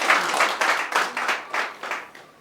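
Applause at a civil marriage ceremony at Runda Sector, a small group clapping in several short bursts that rise and fade, moderately near with no talk over it.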